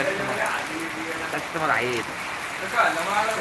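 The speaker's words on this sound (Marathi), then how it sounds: "लईच पाऊस वाढलाय" Steady heavy rain falls during a cyclone warning at an outdoor vegetable market, its constant hiss running beneath a voice talking over it.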